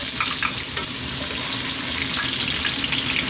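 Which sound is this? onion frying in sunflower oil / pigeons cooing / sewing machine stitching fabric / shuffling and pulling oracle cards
onion frying in sunflower oil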